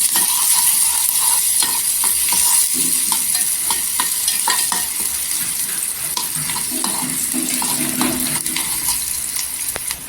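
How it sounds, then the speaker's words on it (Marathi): Onions frying in a pan until golden, a loud, constant sizzle and hiss with intermittent stirring clatter, close up and without talk. "इथे कांदा टाकायचा छान असा गोल्डन कलर करून घ्यायचा"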